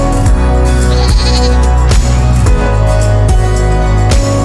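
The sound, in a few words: goats bleating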